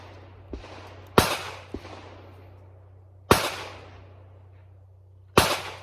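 Three loud, sharp gunshots from a 9mm carbine fired at a target about ten yards away outdoors, spaced roughly two seconds apart with fading tails, plus a couple of fainter pops between them.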